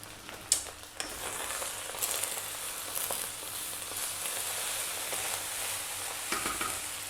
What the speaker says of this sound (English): You actually want the rice to be actually frying.